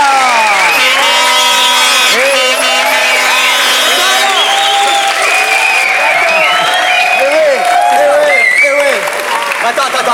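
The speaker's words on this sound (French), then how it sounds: "qu'un tonnerre d'applaudissements se fasse entendre jusqu'au rocher de Monaco" A studio audience on a French television game show claps steadily in a thick, sustained wave of applause mixed with cheering, while voices talk and shout over it throughout.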